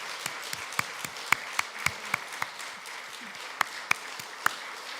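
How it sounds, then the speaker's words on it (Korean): A church congregation applauds in a sustained patter of many hands, with sharp individual claps standing out on top, in a moderately reverberant room. "우리 전달할 때 우리 큰 박수 한번 치도록 하겠습니다"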